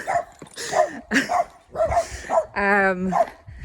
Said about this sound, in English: there's just neighbours' dogs out now, and come on, Georgie